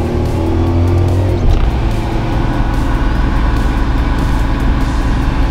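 Second-generation Toyota Supra engine pulling hard under acceleration, a loud steady drone with rising tone and roaring exhaust, heard from close by with no talk.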